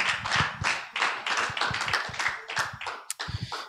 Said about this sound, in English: Give the Lord a clap offering as Devin comes.